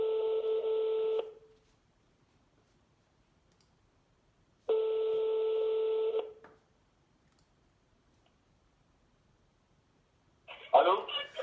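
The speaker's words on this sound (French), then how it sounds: "avec lui, nous allons nous permettre d'ailleurs d'appeler cette dame Mimi" Telephone ringback tones for an outgoing call: two long steady buzzing tones a few seconds apart with silence between them, then a voice picks up and begins talking at the end.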